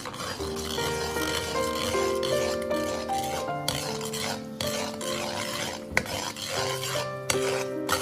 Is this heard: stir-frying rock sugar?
yes